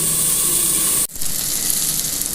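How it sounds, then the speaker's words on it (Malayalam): Finely chopped tomato drops into a hot pan, breaking a loud, steady sizzle with a brief dip before the hissing surges back up and continues strongly. "ഇനി നമ്മളതിലേക്ക് ഒരു തക്കാളി ചെറുതായി അരിഞ്ഞതും കൂടി ഇട്ട് കൊടുക്കുന്നുണ്ട്"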